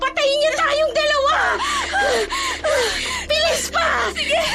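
Rapid, heavy breathing with gasps and whimpering from a woman fleeing on foot, panting in quick repeated bursts, loud and close, with strained vocal sounds throughout.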